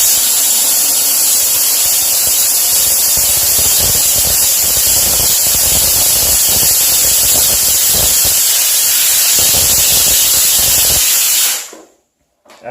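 A HomeRight SteamMach steam cleaner blasting a toilet gives a loud, continuous close-up hiss of spraying steam for over ten seconds, cutting off abruptly near the end.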